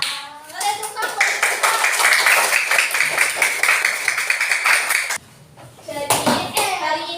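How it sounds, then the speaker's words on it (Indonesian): Schoolchildren in a fifth-grade primary school classroom clap their hands together in a dense, loud, rapid burst that runs for several seconds, then stops briefly before children's voices and a little more clapping return. "Kalian tepuk tangan."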